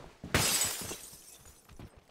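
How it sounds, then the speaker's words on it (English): Glass shattering in the battle royale game PUBG: a sudden sharp crash followed by tinkling shards falling off over about a second, fairly close and alone. "Just broke glass."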